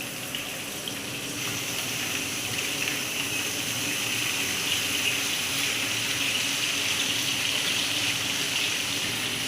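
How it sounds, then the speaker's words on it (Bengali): Potato pieces fry with salt and turmeric in hot oil, giving a continuous, even hiss of sizzling that holds steady throughout and is heard up close without any talk. "আলুটাকে ভেজে নিচ্ছি।"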